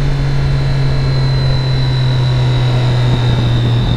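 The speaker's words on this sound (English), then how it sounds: "Hear this damn thing throughout the whole park. This is a stock exhaust too." Motorcycle with a loud stock exhaust riding through a park, a steady droning engine note with a strong low hum and a constant wash of wind and road noise, close and unbroken.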